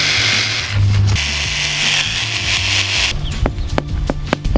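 A jigsaw held against the side of a form for a DIY concrete skate curb buzzes steadily and loudly, then gives way to a series of sharp, close taps near the end.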